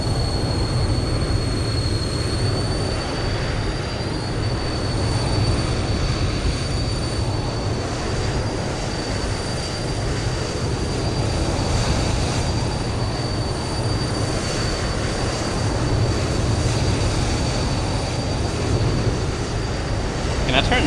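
Engines 3 and 4 of an Airbus A380X spool up in Microsoft Flight Simulator, a video game, giving a steady jet roar with a high, rising whine that holds throughout.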